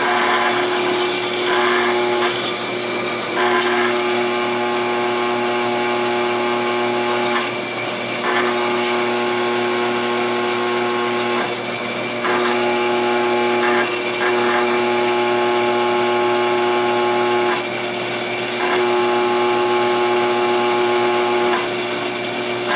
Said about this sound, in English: I'm drilling this at a slow RPM